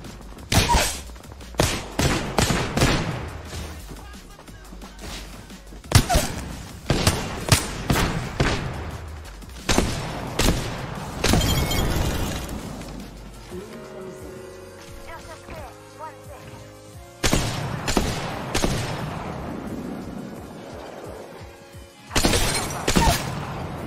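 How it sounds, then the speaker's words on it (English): Single-fire shots from a Havoc rifle in Apex Legends, evenly spaced loud cracks in repeated volleys across the scene, interrupted by short pauses with game ambience and talk over the top. "They're shooting a Havoc single fire"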